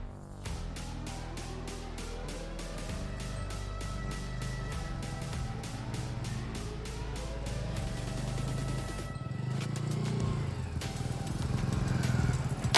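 A motorcycle engine runs steadily, its pitch rising and falling as it revs, over a regular ticking pulse.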